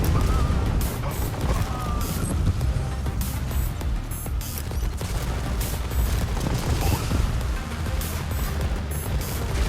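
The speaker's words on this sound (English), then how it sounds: "Airstrike inbound." Airstrike explosions in the real-time strategy game Tempest Rising, a dense barrage of booming blasts and crackling gunfire that pounds on continuously and loudly for the full stretch.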